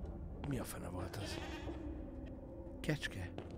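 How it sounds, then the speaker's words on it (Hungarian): In the video game Mundaun, a goat lets out two wavering bleats, one early and one later, over a steady low background with a voice present. "Kecske."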